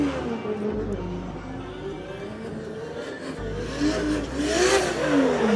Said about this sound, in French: Là il est en train de chauffer le train avant.